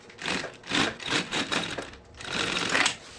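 A sewing machine stitching a seam on a handbag, a near, rapid mechanical chatter in several short bursts separated by brief pauses, with no voice over it.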